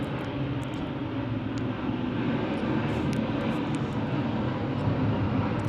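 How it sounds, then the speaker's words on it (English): A propeller airplane passes overhead with a steady, broad engine drone that holds at moderate loudness throughout, with no talking. "let's just let the plane go over"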